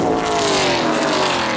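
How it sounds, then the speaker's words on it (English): A super late model stock car roars past at Willow Springs, its loud engine holding a steady high pitch and sliding slowly lower as it goes by, filling the whole stretch without a break. "This is a super late model."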